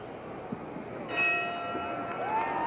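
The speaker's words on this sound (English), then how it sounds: "The bell for round 1." Boxing ring bell for round one at a Muhammad Ali versus Buster Mathis heavyweight bout: a ringing metallic tone with sustained overtones rises after about a second and hangs over arena crowd noise, moderately loud.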